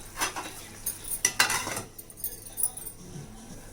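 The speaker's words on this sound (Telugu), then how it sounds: "మూత పెట్టేసుకుందాం." A lid goes onto a cooking pot of curry in a home kitchen, a couple of sharp metallic clanks and clinks close to the mic with a brief scrape, no speech.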